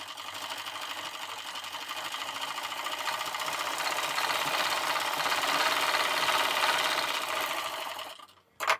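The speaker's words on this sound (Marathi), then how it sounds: "या ठिकाणी मी 1/2 इंच फोल्ड करून घेऊन अगोदर शिलाई देऊन घेणार आहे इथून." A sewing machine stitches a folded blouse hem in a fast, continuous mechanical whir that builds and holds for several seconds before stopping abruptly with a couple of clicks.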